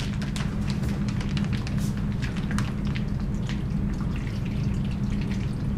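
Fluid from a preserved cat dissection specimen is poured out of its bag, making a steady run of wet drips and trickles over a constant low hum, close and even throughout with no talking.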